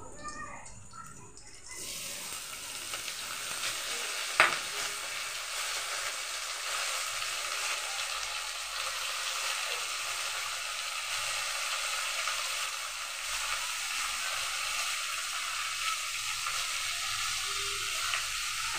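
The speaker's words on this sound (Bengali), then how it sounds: "তো আমি এগুলো একটু হালকা ভেজে নিই। তো এগুলো আমার ভাজা হচ্ছে" Papaya fries in a pan with black cumin, a faint, even sizzle that hisses steadily throughout, broken once by a single sharp clink of a utensil.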